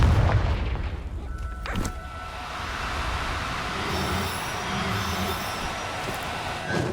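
Confringo spell blast in the Hogwarts Legacy video game, a deep booming explosion at the start followed by a low rumbling roar and a sustained hum that lingers for several seconds.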